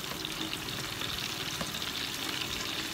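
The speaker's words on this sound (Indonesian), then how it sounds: "Kita tunggu margarinnya sampai meleleh, kemudian kita masukkan tepung." Wheat flour frying in melted margarine as it is stirred in a pan, a steady, close sizzle with soft scraping of the stirring running throughout, no talk.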